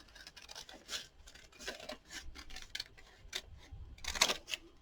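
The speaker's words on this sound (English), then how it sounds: "So once you've got your pattern drawn, then just cut out on the line all the way around." Paper scissors snip around a drawn heart pattern on paper, quiet close crisp cuts and rustles in an irregular series.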